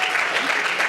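Audience applause at a 2013 graduate awards ceremony, a brief burst of steady clapping from a crowd, fairly loud and continuous.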